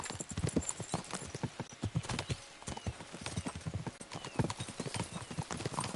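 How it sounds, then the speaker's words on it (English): Horses galloping in the video game Kingdom Come: Deliverance II, a dense, rapid run of hoofbeats close by, continuous and loud, with a brief whinny-like cry and no talk. "We should spur the horses on"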